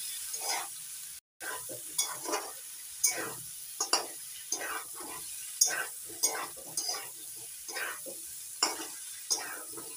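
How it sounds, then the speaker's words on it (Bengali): Fried rice with fried shrimp, chicken and egg stir-fried in a pan, with rhythmic spatula scrapes and tosses about once a second over a soft sizzle. The sounds are close and fairly loud, with no talking. "এবার দিয়ে দিচ্ছি ভেজে রাখা চিংড়ি মাছ, চিকেন আর ডিম। এবার একসঙ্গে ভালো করে মিশিয়ে নিচ্ছি।"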